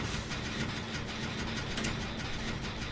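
A vehicle engine in a video game runs at a steady idle, a continuous mid-pitched rumble that stays even and fairly loud throughout.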